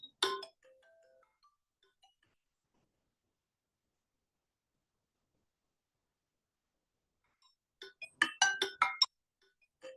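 A phone rings in short bursts, with one quick chime at the start and then a tight cluster of bright, trilling rings near the end. The rings come after a long silence, with no talk over them.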